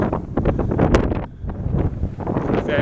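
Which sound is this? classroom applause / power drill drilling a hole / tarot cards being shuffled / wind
wind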